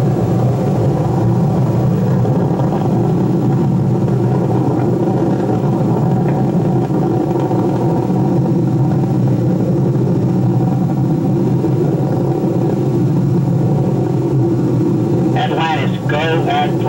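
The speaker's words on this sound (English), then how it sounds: "Engines now revving up" Space Shuttle Atlantis's main engines roar during the STS-135 launch, a deep, steady rumble heard from a distance that holds for many seconds, with a brief voice near the end.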